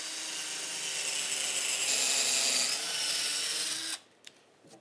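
A power driver bores 3/8 inch holes into wooden posts, whirring loud and continuous for several seconds before stopping abruptly, followed by a couple of faint clicks.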